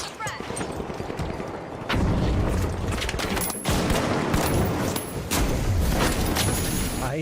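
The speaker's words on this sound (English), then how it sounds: "Throwing a frag." A frag grenade goes off in a first-person shooter video game amid rapid gunfire, with a heavy boom followed by sustained bursts and sharp cracks that are loud and close, under a speaking voice.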